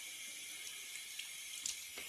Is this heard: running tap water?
yes